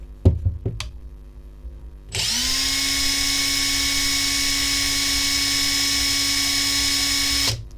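Makita TD172D impact driver running freely at speed 2, a few clicks and handling taps followed by a loud, steady high-pitched motor whine for about five seconds that stops abruptly, close up and alone.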